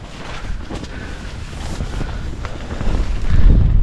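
Gusty wind buffets the microphone in heavy rumbling bursts on Hen Mountain, growing stronger toward the end, with no voices.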